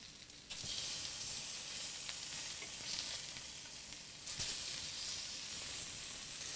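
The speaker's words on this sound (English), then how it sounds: "Going to flip our salmon." A salmon fillet sizzles steadily in a hot pan just after being flipped, with a dense, continuous frying hiss that swells briefly a couple of times and runs alone without talk.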